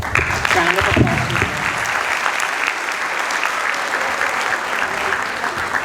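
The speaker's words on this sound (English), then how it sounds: "Give your hands a big round of applause." A graduation audience for the class of 2023 applauding, a sustained dense wash of clapping from a large crowd, with a voice briefly audible over the start before the clapping carries on steadily.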